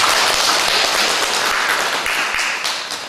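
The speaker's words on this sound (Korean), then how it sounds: "박수 한번 주시죠" A church congregation at a Sunday worship service applauds steadily, dense, fairly loud clapping that fades slightly toward the end.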